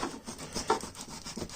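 A blunt knife saws back and forth while a box is being unboxed, giving a quiet, rhythmic rasping scrape with several quick strokes and no voices.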